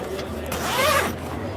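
A zipper runs along a waterproof fabric bed screen inside a Mercedes Sprinter 170 off-road camper van, one steady close zip with faint voice underneath.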